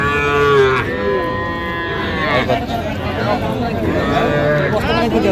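Bull calves at a busy village cattle market give several drawn-out moos, one near the start and others later on, some overlapping. A steady murmur of people talking fills the background.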